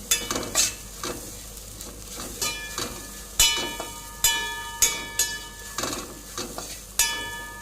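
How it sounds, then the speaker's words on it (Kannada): Grated coconut and spice powder fried in a pan with a light sizzle under repeated stirring, a spoon scraping and clinking against the pan in irregular bursts, close and fairly quiet, with no talking. "ಈಗ ಇದಕ್ಕೇನೆ ಸ್ವಲ್ಪ ಕಾಯಿ ತುರಿಯನ್ನು ಹಾಕಿ ಫ್ರೈ ಮಾಡ್ತೇನೆ"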